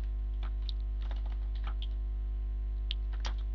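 Keys tapped on a computer keyboard while entering a title, quiet irregular clicks in short bursts over a steady low hum.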